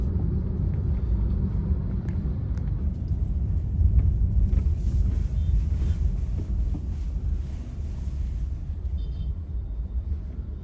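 A 2024 Suzuki Dzire driving over a bad road gives a steady, close cabin rumble of tires and suspension, with low, rough road noise and faint knocks, and no one talking.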